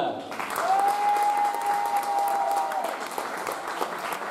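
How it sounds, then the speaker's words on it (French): An audience at a regional beauty pageant applauds the live band's bassist, steady dense clapping with a sustained held tone from the stage in the first half and faint background voices. "On applaudit avec nous Saïd."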